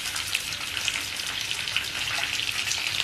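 Onion and green chili sauté in hot oil with curry leaves and whole spices, a steady close crackling sizzle filling the whole stretch without pause.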